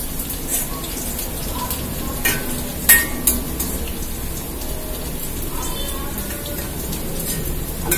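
Onions sautéing in a pan for a horse gram kuzhambu, a steady close sizzle with a few sharp clicks of a spoon against the pan near the middle, no one talking.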